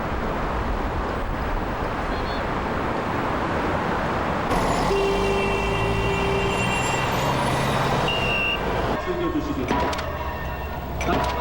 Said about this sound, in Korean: 자동차 경적을 비롯해 건설 현장에서 들려오는 각종 소리들